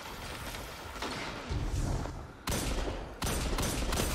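Rapid gunfire from a first-person shooter video game comes in several loud bursts, clustered shots separated by short gaps, with game sounds around them.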